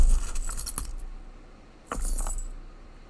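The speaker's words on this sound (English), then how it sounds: "let me see if I can grab a hold of some pretty keys" A set of keys jangling close by in two bursts of bright metallic clinks separated by a short pause.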